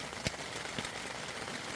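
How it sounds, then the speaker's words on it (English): Rain falls steadily on a teepee-style hot tent, a soft continuous patter with a few louder drops striking close by, quiet and without talk. "the sound of the rain"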